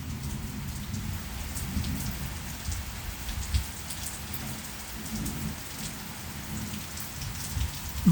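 Steady rain falls on a yard during a cold front storm, a soft continuous patter with occasional louder drops and a faint low rumble underneath, heard alone without talking.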